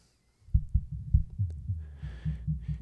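A drum track plays through a headphone-monitoring plugin with the subs switched on, leaving a run of deep, thudding kick-like hits in an uneven groove, heavy in the lows with faint hissy cymbal texture on top.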